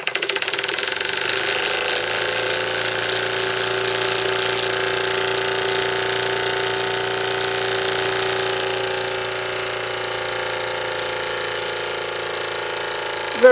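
A restored Jensen 5 model steam engine, running on half power at about 110 volts, holds a steady, even mechanical hum with fine rapid ticking, close and continuous without any voices.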